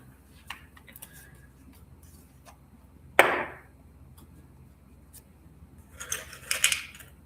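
Scissors snipping foam spacers for a fly-tying popper, a few soft scattered clicks and one sharper cut near the middle, then a cluster of quick snips at the end in a quiet room.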